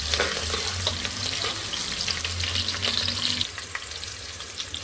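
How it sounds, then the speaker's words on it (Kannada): Thick-sliced onion fries in a little oil for methi bath, a steady close sizzle with light stirring that drops in level near the end. "ಈಗ ಒಂದೇ ದಪ್ಪಾಗಿರೋ ಒಂದು ಈರುಳ್ಳಿ ಕಟ್ ಮಾಡಿಕೊಂಡು ಸ್ವಲ್ಪ ಎಣ್ಣೆಯಲ್ಲಿ ಫ್ರೈ ಮಾಡ್ಕೊಳ್ಳಿ."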